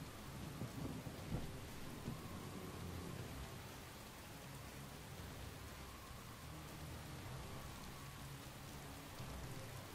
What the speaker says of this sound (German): Ja, die Hamburg hat ja immer so Stürme,